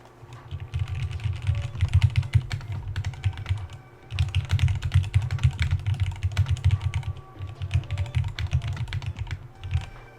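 Typing on a J80 mechanical keyboard: rapid, dense keystroke clatter in three long bursts with brief pauses between, close and fairly loud, with no voices.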